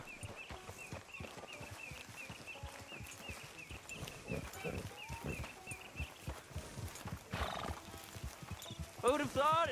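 A horse in the Red Dead Redemption 2 video game, its hooves clip-clopping in a steady rhythm under game music and ambience, ending in a loud neigh. There is talk around it.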